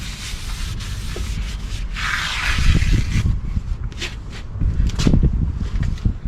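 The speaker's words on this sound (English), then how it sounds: "Cleaning up my rotor in case there's any oil on top of the rotor." A cloth wiping down the front brake rotor of a 2005 Toyota Camry XLE to clear any oil, a close, continuous scrubbing rub that rises in bursts, with no voices.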